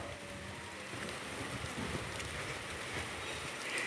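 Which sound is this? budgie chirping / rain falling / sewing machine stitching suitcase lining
rain falling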